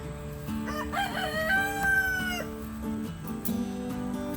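A rooster crows several times in drawn-out, warbling calls over steady clucking from a flock of backyard chickens resting near their coop, all fairly close and continuous.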